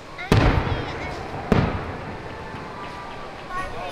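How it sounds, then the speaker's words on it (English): Two sharp fireworks bursts crack about a second apart at a Christmas fireworks show at Dollywood, followed by a fading crackling tail and distant rumble. "Always love a good fireworks show."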